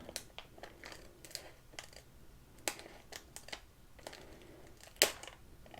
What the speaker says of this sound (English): Just slowly cutting through the top of the packet.